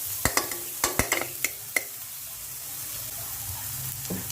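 Beef sizzling in a pan while frying for papaitan, a faint steady sizzle under a cluster of sharp clinks and scrapes from stirring early on, then a quieter hiss.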